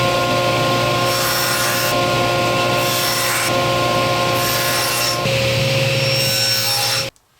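A hand saw cuts 45-degree miters in wood for a cork board frame, its strokes rasping back and forth in an even, steady rhythm, close and loud, before stopping abruptly at the end.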